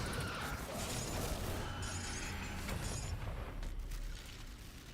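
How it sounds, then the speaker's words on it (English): Explosions in a video game while playing the Warlord class: a continuous roar of blasts and crashing debris with shattering textures, loud and dense, thinning a little toward the end. "those some explosions"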